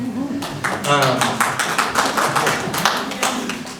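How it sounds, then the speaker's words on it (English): Small audience at a candidate forum clapping, close individual claps and taps heard along with voices talking over them. "give yourself a round of applause"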